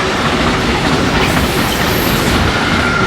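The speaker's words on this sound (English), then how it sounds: "This is the freight train, look." A freight train rumbles past up close in Germany's Rhine Valley, a loud steady roar with clattering wheels and a faint squeal.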